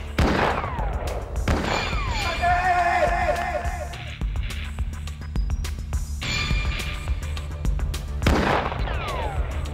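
Gunfire in a Malay detective drama scene: several loud sharp shots and blasts, some spaced and one burst near the start and end, over a dense layer of tones and score.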